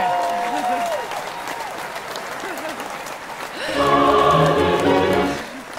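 An audience breaks into a short burst of applause in a radio studio during a show, loud and close, following a stretch of speech.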